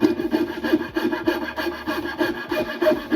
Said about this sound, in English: The coping saw we're going to use to chop or cut out most of this waste